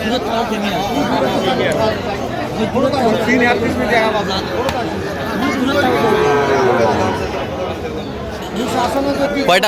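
Young Sahiwal bull calves low and moo at a busy Chuadanga cattle market, their calls rising through dense, continuous crowd chatter and bargaining voices close by.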